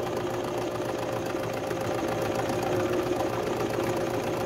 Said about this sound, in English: we're going to ease right around the edges of it with that zigzag stitch